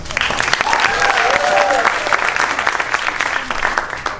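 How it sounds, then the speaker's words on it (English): An audience applauds after a one-act play, a dense round of clapping with a few brief voices or cheers rising through it, steady and fairly loud before thinning slightly toward the end. "Let's get one more big round of applause for Charlie."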